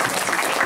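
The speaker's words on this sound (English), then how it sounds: "Please, a round of applause for His Excellency." A brief, steady patter of audience applause at a conference panel on youth and cultural heritage, moderately loud and continuous with no voices over it.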